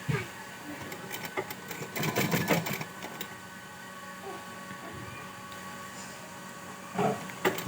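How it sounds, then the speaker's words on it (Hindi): A sewing machine stitching elastic onto a small baby girl's dress, bursts of rapid mechanical rattling with pauses between runs, close and moderately loud. "इस तरह से रबड़ को खींचते जाना है और सिलाई करते जाना है।"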